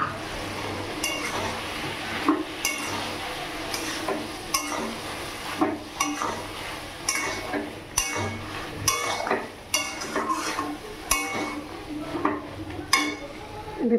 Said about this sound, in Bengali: এবার এখানে পোস্ত বাটাটা, কাঁচা লঙ্কা বাটাটা দিয়ে ভালো করে একটু কষিয়ে নেব।